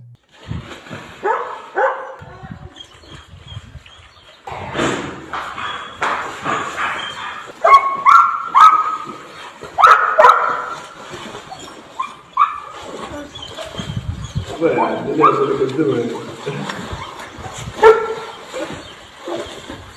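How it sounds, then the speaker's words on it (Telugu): A dog barks, yips and whimpers in uneven bursts at close range, with a short quiet stretch early on, and faint voices in the background. "అయితే ఈయనకు కుక్కు ఉన్నది, సాదుకుంటుండు."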